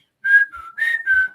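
A person whistles an imitation of a chickadee call: three or four clear, close, pure notes in a short sequence, the first higher and then dipping, alone against silence.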